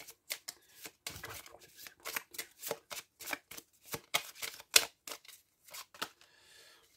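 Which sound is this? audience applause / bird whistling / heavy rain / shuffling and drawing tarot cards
shuffling and drawing tarot cards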